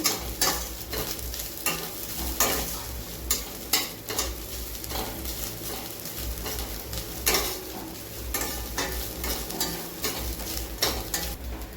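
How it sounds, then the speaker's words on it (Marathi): Freshly grated coconut sautéing in ghee in a pan for steamed rice-flour modak filling: a soft continuous sizzle under repeated scraping and clinking of a spatula against the metal pan, close and steady throughout. "आता दोन मिनटं आपण असं छानच परतून घेऊया तुपामध्ये"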